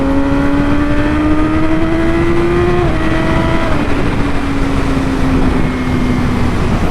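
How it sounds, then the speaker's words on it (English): A Yamaha R6 sport bike pulls hard on a back road, its engine note climbing steadily until a quick-shifter upshift drops the revs around the three-second mark, then it pulls strongly again. The engine is loud and close, with steady wind noise and no talking. "I just really wanted to get on this freaking bike and just try this quick shifter out"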